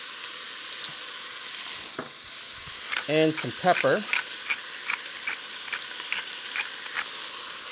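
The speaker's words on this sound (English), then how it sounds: "There we go, a little bit of sizzle." Beef sizzling in a pan over the highest heat, a steady faint frying hiss with stirring clatter, under someone talking nearby.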